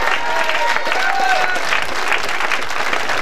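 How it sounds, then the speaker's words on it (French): An audience applauds loudly and continuously for the leader of the Patrouille de France at an outdoor event, a dense crackle of clapping with a few scattered cheers. "Merci de l'applaudir également très fort."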